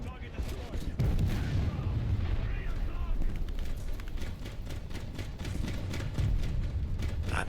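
A 37mm autocannon firing in War Thunder, a dense rapid rumble of repeated booming shots running continuously, with someone talking over it.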